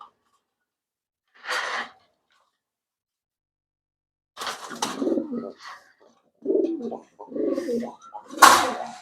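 A Sirajee pigeon coos close by in several short, soft bursts separated by pauses, with no talking.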